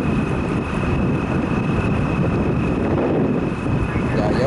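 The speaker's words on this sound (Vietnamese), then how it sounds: "Giờ gió bắt nữa." Wind at sea buffets a fishing boat at night, a loud, steady rumbling roar with microphone buffeting and a faint engine-like hum running underneath throughout.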